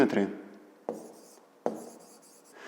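A pen writes on paper while working a fifth-grade geometry exercise, with a longer scratch followed by two short, separate strokes that stand out sharply against near silence.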